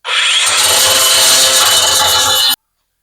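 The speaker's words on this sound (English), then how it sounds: "just go ahead and use one of these little flapper wheels and smooth it out" Flap wheel on a grinder smoothing a tacked weld during S10 drag truck fabrication, a loud continuous abrasive whine that starts abruptly, holds steady for about two seconds and then cuts off, with no talking.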